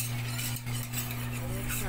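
A gelatin mixture with condensed milk being stirred with a utensil in a container, soft scraping and light clinks over a steady background hum, brief and close.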